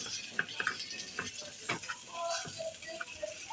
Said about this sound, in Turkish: Şimdi sucuk kızartıyorum ona.